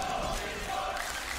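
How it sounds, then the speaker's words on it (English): Esports crowd at The International 2022 Dota 2 main event, beastcoast versus PSG.LGD, a steady broad roar of cheering and murmur filling the arena, loud and continuous throughout with no clear talk on top. "the crowd's starting to get into it a little bit here"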